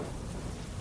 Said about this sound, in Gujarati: રાતથી જ ભારે વરસાદ વરસી રહ્યો છે